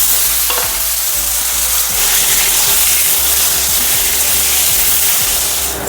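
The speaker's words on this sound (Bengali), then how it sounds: "এখন আমি ভেজে নিচ্ছি।" Potatoes coated in turmeric and salt fry in hot oil in a wok, a loud, continuous sizzle and hiss close up, broken by repeated stirring scrapes and no speech.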